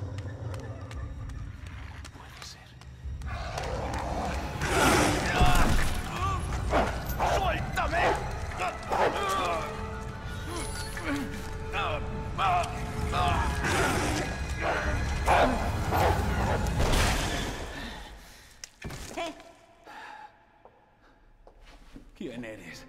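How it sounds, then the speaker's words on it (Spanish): Zombie dogs bark and snarl in Resident Evil 2 Remake, heard in a parking garage amid loud game sounds, crashes and running steps for most of the stretch before things quiet near the end. "Y perro zombie."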